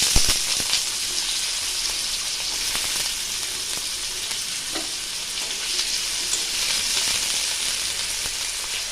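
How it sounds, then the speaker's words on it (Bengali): Thin-sliced potatoes sizzle and crackle in hot oil alongside already-fried mola fish, a steady dense frying hiss filling the whole stretch with occasional spatter pops, close and fairly loud, no talking. "আমার মাছগুলো ভাজা হয়ে গেছে, এবার আমি এর মধ্যে আলুগুলো ছেড়ে দিচ্ছি"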